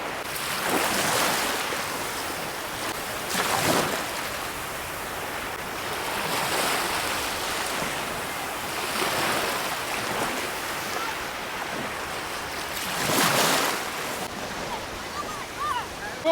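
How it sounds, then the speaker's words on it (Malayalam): Surf breaking on the beach at Al Khafji Corniche, a steady wash of waves with louder swells rising every few seconds, mixed with gusts of wind buffeting the microphone close by. "ആൽക്കഫ്റ്റി കോർണിഷിലാണ് നമ്മളിപ്പോൾ നിൽക്കുന്നത്. അടിപൊളി ബീച്ചാണ്."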